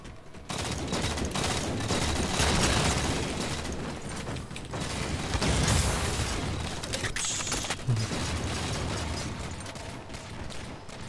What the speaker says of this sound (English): Futuristic guns.